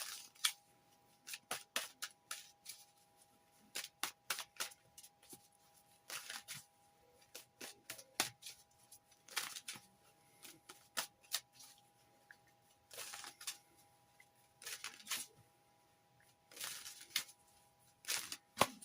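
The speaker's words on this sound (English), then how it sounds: "I'll be taking the first card from the Linestrider Tarot" Linestrider Tarot cards are shuffled and handled up close, giving soft, irregular bursts of papery slides and flicks with quiet pauses between them and no voice.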